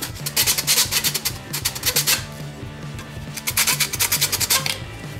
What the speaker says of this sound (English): Gonna go ahead and sand that piece off really good.